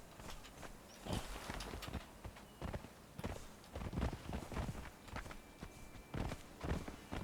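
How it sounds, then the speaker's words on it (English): Quiet, rhythmic hoofbeats clopping along at a steady trot in the video game Conan Exiles, soft and continuous with a faint ambient hum behind them. "okay, now I get back on my horse."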